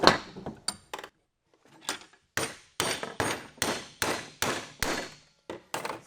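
A wooden woodworking mallet head is hammered onto its handle, producing a dozen sharp knocks that come in an irregular series and then settle into a faster, evenly spaced run. The knocks are close and loud, and there is no speech.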